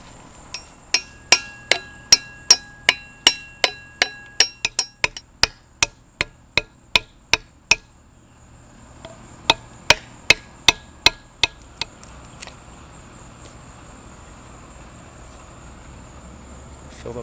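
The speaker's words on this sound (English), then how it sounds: "Hammer that in, that'll spread out and hold that in there." Sharp, evenly spaced hammer blows drive a wooden shim into a slot in a handmade axe handle, a long run of about a dozen and a half, a brief pause, then a few more strikes.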